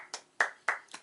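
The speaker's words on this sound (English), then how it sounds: "round of applause, lady. Round of applause." Four sharp, separate hand claps at a steady slow pace, close and crisp.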